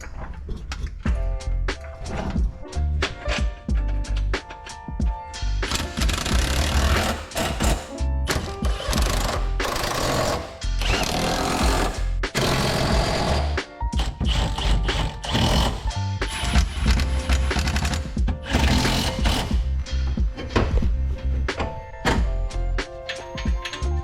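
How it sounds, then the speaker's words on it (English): A jack is worked under a Nissan A31 Cefiro to lower its subframe, producing repeated close mechanical clicks and ratcheting thunks in an irregular rhythm, with scraping metal sounds and brief gaps between strokes. "Sam, can you please jack the jack? Slow it down a little bit first."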